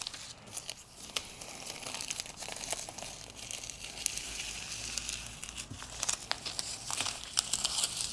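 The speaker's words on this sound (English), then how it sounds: "so the last thing is just to remove the tape." Tape is slowly peeled off a grouted tile sample board, producing a continuous close crinkling, tearing rasp with sharper bursts and rips as it lifts past the grout joints, with no voices.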